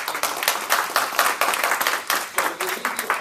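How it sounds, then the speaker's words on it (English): A small audience at a Toastmasters club meeting claps in a close, irregular patter of many hands, steady and moderately loud for a few seconds before tapering slightly. "And you're supposed to clap."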